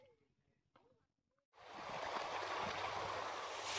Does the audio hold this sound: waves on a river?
yes